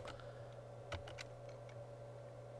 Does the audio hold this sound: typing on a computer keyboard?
yes